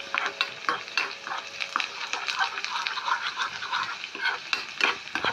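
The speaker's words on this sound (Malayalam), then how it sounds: "വെളുത്തുള്ളി നന്നായിട്ട് ഫ്രൈ ആവട്ടെ." Finely chopped garlic crackles and sizzles in hot oil, a close, busy frying sound with frequent small pops and stirring scrapes throughout.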